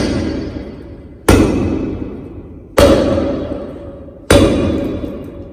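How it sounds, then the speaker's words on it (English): Three heavy, ringing metallic strikes spaced about a second and a half apart, each decaying slowly, from a weighted iron hand drill bar lifted and dropped onto slate in a slate mine. "To use the drill, simply just lift and twist."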